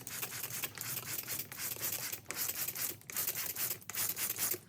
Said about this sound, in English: I'm gonna give each of these a few sprays with acetone.